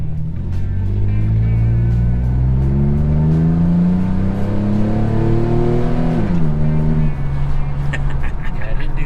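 A high school sport truck engine revs hard on a dyno, a loud sustained roar climbing steadily in pitch before dropping sharply and settling again, with brief voices faint in the background.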